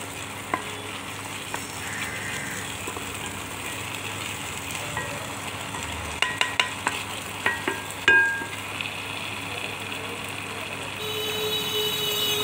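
Tomato posto frying in a pan hisses and sizzles steadily while a utensil stirs it, with a few sharp clinks and scrapes against the pan clustered in the middle.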